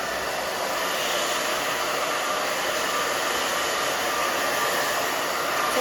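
A hair dryer runs steadily on a woman's short pixie cut as it is blown dry in the opposite direction for fullness, a continuous close, loud airy roar with no talk.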